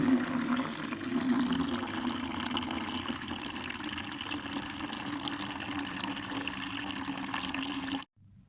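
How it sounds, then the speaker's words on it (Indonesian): Water pours steadily into a bucket containing salt, a continuous close splashing gush lasting about eight seconds before stopping abruptly, with no talk over it. "Garam tadi ditaruh di dalam ember, lalu kita masukkan air."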